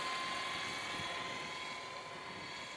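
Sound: radio-controlled model helicopter flying a pass

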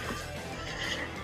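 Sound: horse neighing, audiobook sound effect

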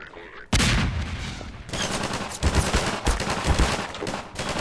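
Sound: gunfire in the video game Half-Life 2

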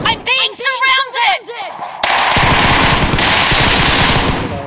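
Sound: gunfire in the video game PUBG

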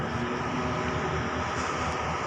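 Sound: train engine running

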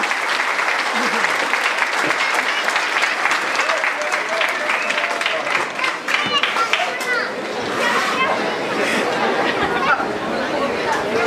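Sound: audience applause at a festival dance performance

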